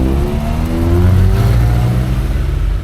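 A Fiat 124 Spider with a 2-litre, 105-horsepower engine revs loud and close, its rising engine note climbing and holding steadily throughout.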